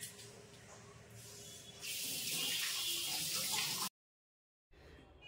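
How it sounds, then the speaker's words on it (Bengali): Coffee cup and tea cup washed under a running kitchen tap, a steady rush of water that gets louder midway, cuts off briefly, then resumes. "এবার কফির কাপ আর মেয়ের চায়ের কাপটা আমি মেজে নিচ্ছি।"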